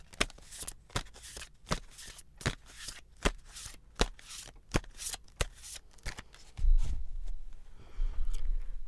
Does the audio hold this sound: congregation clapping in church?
no